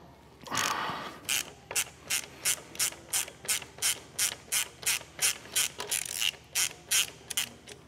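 Ratchet with a 7/16 socket backing out a bolt on a Harley Super Glide FXD motorcycle, a rapid regular series of about fifteen ratcheting clicks after an initial loose turn, close and clear, no talking.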